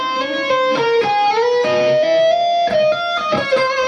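Electric guitar lick from a Little Fighter solo, played with choppy, disconnected notes that break off between picks, bright and loud with a bending melodic line and no voices.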